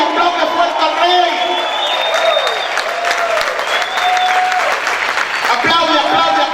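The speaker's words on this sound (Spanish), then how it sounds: "Grita y aplaude fuerte al Rey." A church congregation claps and cheers loudly for several seconds, with scattered whoops and shouts over dense, steady applause and voices mixed in.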